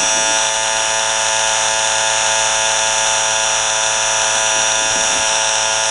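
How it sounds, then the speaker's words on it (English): A simple brushless electric motor with neodymium magnets spins at over 6500 RPM, giving a loud, steady high-pitched whine that holds constant for the whole stretch with no talking. "The speed of this motor is over 6500 RPM."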